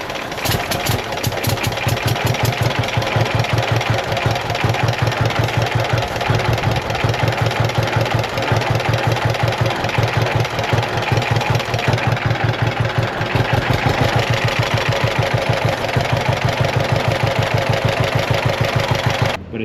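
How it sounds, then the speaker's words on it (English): A John Deere B two-cylinder tractor engine idles with a lumpy, uneven beat while starting fluid is sprayed, a loud, close, steady rhythmic chugging that runs the whole time. "I'm gonna fire it back up and spray some starting fluid and see if the engine noise"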